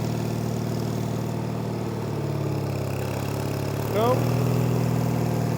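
A Case trencher engine idles with a steady, low, chugging drone, close and loud throughout, and a short spoken word and a brief rising whine come near the end.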